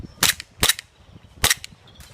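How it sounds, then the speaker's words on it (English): A Stark Arms gas pullback airsoft pistol fires four sharp, snappy shots in an uneven rhythm, close and loud over a quiet background. "So this is my Stark Arms gas pullback pistol. It's gas."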